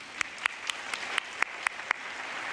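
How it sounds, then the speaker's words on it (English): A small group claps in a sparse, uneven patter of distinct individual claps, close by, with no voices. "a round of applause for all our nonprofits"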